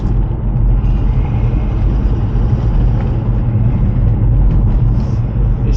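An old London taxi cruises along a country road toward Brockenhurst at about forty miles an hour, giving a loud, steady engine drone and road rumble from inside the cab, with no talking.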